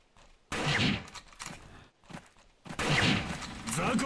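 Gunfire in the samurai action game Way of the Samurai 4, arriving in two loud broadband bursts of rapid shots over about four seconds, with game noise and a voice speaking between them.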